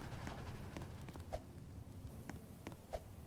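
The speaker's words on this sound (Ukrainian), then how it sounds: "Коні. Це коник просто." Horse hooves clip-clopping in the Roblox game Dead Rails, faint, irregular hoof taps over a steady low background hum.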